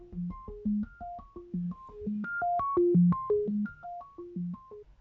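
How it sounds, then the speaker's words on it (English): Synth sequence played from a small patch programmed on an earwave, a bouncy arpeggiated pattern of short, bright tonal blips stepping up and down in a steady repeating rhythm, clear and alone. "I made this little patch and sequence on the earwave,"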